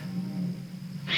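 A single short bird call breaks out at the very end of a quiet, foggy night, cutting in sharply over a low steady hum.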